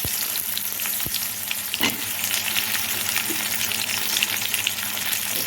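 Onion and garlic sauté in a pan for a sundal kulambu, with a dense, steady sizzle and an occasional soft scrape of stirring. The frying is close and continuous, with no talking.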